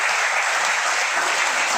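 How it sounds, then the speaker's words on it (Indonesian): Steady, dense applause from a crowd at a pub gathering in the New Hunter Pub fills the room evenly from start to finish, with no voices on top of the clapping. "Tepuk tangan buat Pak Rudi"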